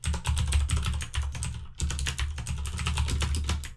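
Fast, steady clatter of keys on a computer keyboard, close and clear, with a brief pause partway through before the rapid tapping resumes.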